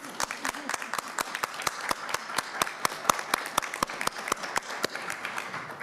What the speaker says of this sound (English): Can we give her a clap out? Yes, we can give her a clap.